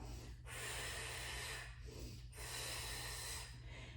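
Heavy breaths during a Pilates stretch, with two long forceful exhales through the nose close to the microphone over a low steady hum.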